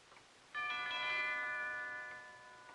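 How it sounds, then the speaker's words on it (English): A doorbell in a 1951 film-noir house rings once, its bright chime starting sharply and fading slowly over about two seconds, close and clear, with no voices. "He just rang the bell again and then stood there."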